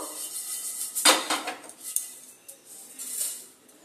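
A spice pan is lifted off the stove and pots are handled in a home kitchen while cooking chicken khichuri, with scattered metallic clanks and scrapes, one sharp knock standing out, close and without speech.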